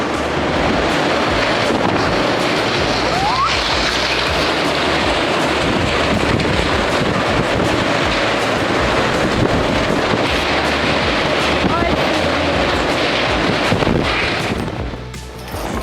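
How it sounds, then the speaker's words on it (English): Strong wind gusts roar steadily around apartment buildings, a loud, continuous buffeting rush across the microphone that holds for the whole stretch and eases only at the very end. "a strong wind gust ripping the roof off nearby apartment buildings"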